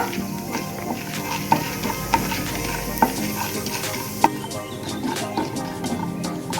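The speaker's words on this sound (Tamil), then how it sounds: "சனா தால், ஊரட் தால் ரெண்டுத்தையும் போட்டு கொஞ்சம் ஃப்ரை பண்ணிக்கலாம்" Chana dal and urad dal fry in a pan on a medium flame, with a steady close sizzle and occasional sharp clicks of a spoon stirring against the pan.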